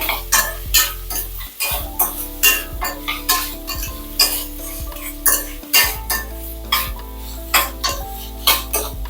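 Potatoes and tomatoes frying in a pan are stirred with a utensil, giving rhythmic scraping clinks roughly every half second over a steady close sizzle.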